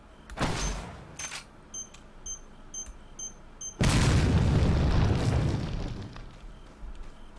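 A hand cannon, the mine thrower weapon in the video game Resident Evil 4, fires with a sudden loud blast that roars on for about two seconds and fades. Smaller thuds and faint electronic beeps come before it.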